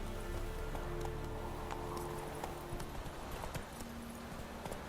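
Roach, a horse in the video game The Witcher 3, gallops in a steady rhythm of hoofbeats under a constant background of game ambience and music, heard at a moderate, fairly faint level.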